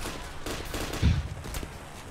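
A short burst of gunfire in the video game Payday: The Heist, heard as a few sharp reports clustered near the middle over a low background of game noise.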